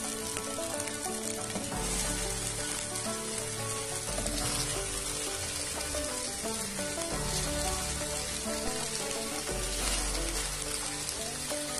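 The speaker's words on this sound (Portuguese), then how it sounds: "Uma frigideira antiaderente, que não gruda, né? A gente vai fritando." Homemade ground beef patties frying in a lightly greased non-stick pan, giving a steady, dense, close sizzle and crackle that runs unbroken throughout with no talking.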